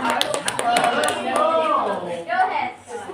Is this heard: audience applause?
yes